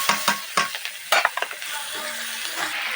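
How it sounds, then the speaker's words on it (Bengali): Sliced onion goes into hot oil already holding dry red chilli, cinnamon, cardamom and whole cumin; a few sharp stirring scrapes up front settle into a steady close sizzle. "এবার দিয়ে দিচ্ছি পেঁয়াজ"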